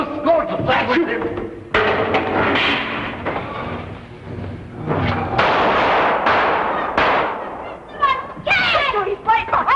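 Gunshots fired at a pursuing Frankenstein monster, a series of sharp loud bangs spread through the scene, mixed with excited voices and dramatic background music.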